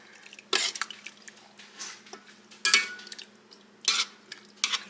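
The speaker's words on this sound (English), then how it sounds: "We're going to mix all that up, get it stirred up, good and combined." Sauce mixture stirred in a pot, heard as a few separate bursts of wet scraping and clinking spaced across the clip, moderately close, with no talking.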